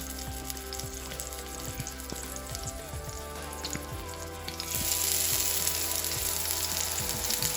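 Chicken legs frying in a pan over medium heat give a steady sizzle with scattered crackles and pops, and the sizzle swells louder and brighter partway through as more pieces go in.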